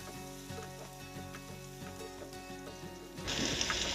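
Onions and tomato frying in a pan while being stirred, a steady sizzle with soft scraping strokes that grows louder and hissier near the end, with no talking.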